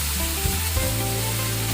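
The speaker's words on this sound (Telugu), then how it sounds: "మరో టేబుల్ స్పూన్ ఆయిల్ని తీసుకొని ఇందులో మనం ముందుగా కట్ చేసి పెట్టుకున్న వంకాయ ముక్కల్ని వేసుకోవాలి" Eggplant pieces sizzle in a tablespoon of hot oil, a dense continuous crackle with a couple of faint stirring knocks.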